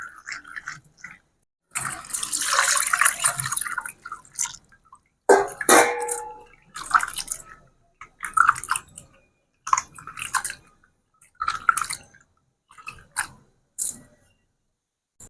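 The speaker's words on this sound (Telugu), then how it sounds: "ఇవన్నీ శుభ్రంగా కడిగి తీసుకొచ్చానండి" Raw prawns washed by hand in water for an egg curry in a village kitchen, with wet squishing, sloshing and dripping in irregular close bursts separated by brief quiet gaps.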